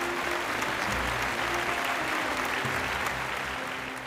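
Loud, continuous crowd applause at the India Golf Expo 2015 as Jeev Milkha Singh is called onstage for a lifetime achievement award in golf, dense and unbroken clapping that fades slightly at the close.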